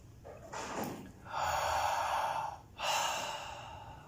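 Deep breath work: two long, close, airy exhalations follow a sharp intake, each breath slow and audible with quiet pauses between.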